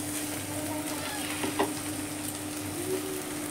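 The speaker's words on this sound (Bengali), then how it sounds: "এবার আমি চাউমিনগুলো এতে ঢেলে দেব।" Chow mein noodles with scrambled egg fry in a pan at home, giving a steady close sizzle and crackle with a faint scrape or two of stirring, and no talking.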